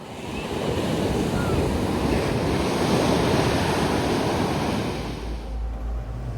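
Ocean surf at an oceanfront beach near Chesapeake, Virginia, heard from a balcony: a steady, loud wash of breaking waves mixed with wind buffeting the microphone.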